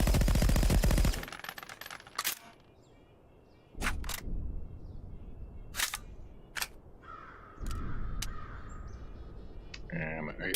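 An internally suppressed AK-platform rifle fires in Contractors VR, a handful of separate, sharp muffled shots spaced seconds apart. Mechanical clicks and handling noises come between them, and a burst of louder noise opens the sequence.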